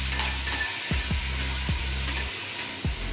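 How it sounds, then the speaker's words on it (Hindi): Crushed ginger and garlic fry in a pot for beef stew, giving a steady close sizzle with a few sharp stirring scrapes spaced through the sound. "फ्राई करेंगे।"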